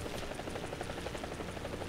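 A helicopter in the War Thunder video game, its rotor thumping in a fast, steady rhythm over a constant engine roar, close and continuous with no talk.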